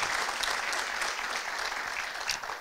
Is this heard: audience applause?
yes